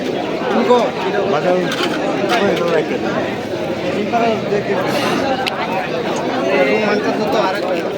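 Pigeons cooing amid steady crowd chatter at a busy pigeon market in Fatullah, with voices and bird calls blending into a dense, continuous din throughout.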